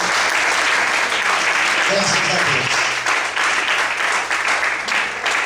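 Church congregation applauding at an evening service, a loud sustained wash of clapping with a voice briefly speaking amid it.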